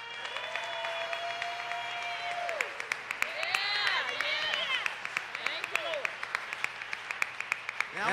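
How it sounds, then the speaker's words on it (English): Applause from a congregation at a Sunday church service, scattered claps rising and thinning under voices and cheers, with a sustained tone running beneath. "Now I want you to keep your clapping going"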